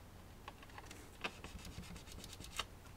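Pried-open plastic casing of a Blink security camera being scratched by hand, a series of short, quiet rasping strokes with two sharper scrapes standing out, close by with no voices.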